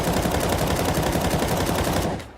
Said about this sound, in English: when we shoot now, you see the difference